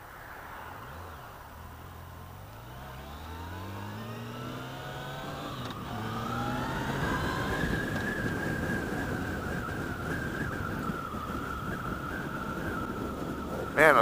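A Yamaha FJR1300ES motorcycle engine pulls through rising revs with several upshifts, then settles into a steady, droning cruise under wind noise while riding near Tarpon Springs, Florida.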